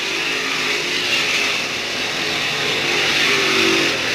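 Race car engine at speed during a race amid lap traffic, a steady high-pitched whine that holds constant throughout, loud and continuous with no talk over it.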